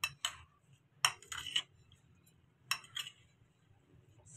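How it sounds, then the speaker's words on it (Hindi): A spoon stirs oil through an onion and green chili pickle in a bowl, giving a few short metallic clinks and scrapes spaced across the moment, close and fairly quiet with no talk. "इसका इस तरह से ऑयल को मिक्स करें"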